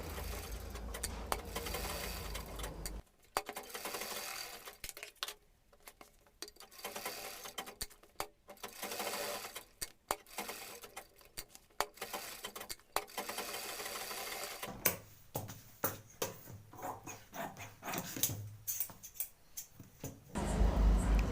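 A sewing machine stitching fabric for a gown, running in fast rapid-fire bursts with short pauses between runs, close and clear with no voices.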